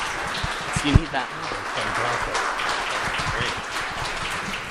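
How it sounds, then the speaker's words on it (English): Clapping from an audience at a storytelling evening, a moderate continuous patter of hands with voices and crowd murmur mixed in over it. "keep clapping for Scott."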